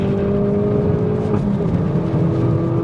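A Hyundai i30N accelerates hard on Queensland Raceway, heard as a loud droning engine with steady harmonic tones and a slight dip as the pitch shifts near the middle, no talking.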